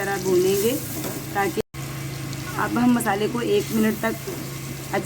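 Turmeric, red chili powder and roasted cumin masala fry in ghee for hotel-style bhindi fry, a steady close sizzle and bubbling that continue under a person talking.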